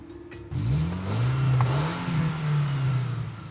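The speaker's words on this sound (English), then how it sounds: "Sounds like a GTI." A car engine idles, then revs up sharply and holds a throaty, wavering rev, loud and close, with no voices.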